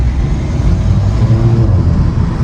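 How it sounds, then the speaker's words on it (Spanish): A Volkswagen Golf GTI Mk7 Performance with over 300 hp accelerating onto a motorway, its loud engine droning low and steady from inside the car, the pitch rising slightly, with no talk. "vámonos a coger autopista un poquito y veis la aceleración del coche"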